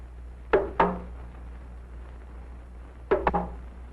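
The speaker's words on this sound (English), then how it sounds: "It can also be said by a drum that can beat both high and low sounds." Two quick pairs of talking drum beats, each pair stepping between high and low pitches, sounding close over a low background hum.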